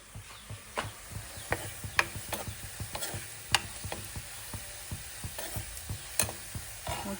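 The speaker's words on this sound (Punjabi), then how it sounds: "ਤੇ ਜੋ ਲਸਣ ਭੁੱਜ ਗਿਆ ਉਹ ਪਿਆਜ਼ ਪਾ ਦਾਂਗੇ" Chopped onions fry with roasted garlic for a saag tadka, giving a faint, steady sizzle. Quick scraping stirs and clicks repeat throughout, close by.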